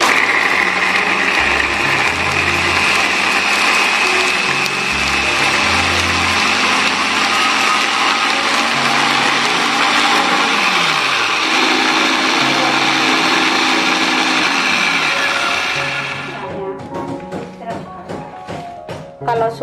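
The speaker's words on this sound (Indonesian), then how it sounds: "Sekarang langsung kita haluskan atau blender bumbunya." Blender running steadily for about sixteen seconds as it purees a soto ayam spice paste of lemongrass and lime leaves with a little water, a dense whirring roar that cuts off abruptly near the end.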